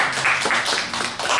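A congregation claps at a Sunday church service, making a brief, dense wash of steady applause throughout.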